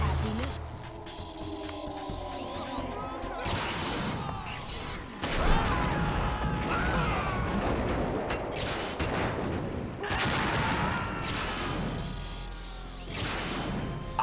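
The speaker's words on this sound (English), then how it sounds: "Both of those explosion sounds were like very common stock sound effects." Booming stock explosion sound effects from Metal Gear Solid 2: Sons of Liberty burst out in quick succession, loud and crashing, with voices talking over and between them.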